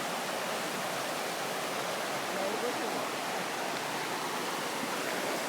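A New Hampshire brook rushes steadily and evenly, a dense continuous wash of flowing water with no breaks, loud and close throughout.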